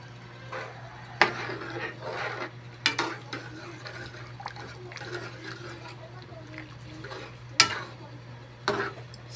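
Rice being stirred in a pot for chicken biryani, soft wet scraping and clinks of the spoon at irregular intervals over a low steady hum, fairly quiet, with a voice talking at times.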